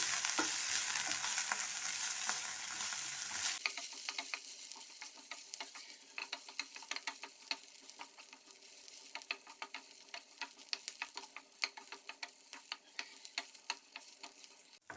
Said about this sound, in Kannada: ಈಗ ಇದು ಕೂಡ ಆಗಿದೆ ಫ್ರೈ ಆಗಿದೆ ನೋಡಿ ಸ್ವಲ್ಪ ಫ್ರೈ ಆದರೆ ಸಾಕು